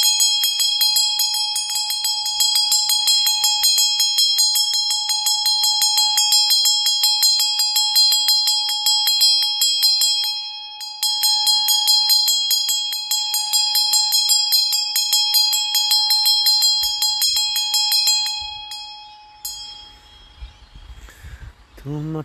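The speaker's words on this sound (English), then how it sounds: "these beautiful divine Tibetan bells, the Tibetan bowls" Tibetan brass bells and singing bowls ring in a sound-healing session, with steady, rapid repeated bright strikes and long sustained shimmering tones, loud and close, pausing briefly before fading into lower resonance near the end.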